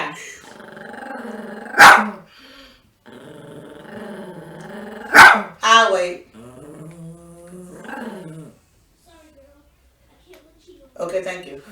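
A small chihuahua gives two sharp, loud barks several seconds apart, with lower growling and people talking in between and after.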